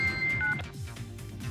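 A phone chimes a short pair of electronic notification beeps for an incoming message, clear and close, followed by low background rumble.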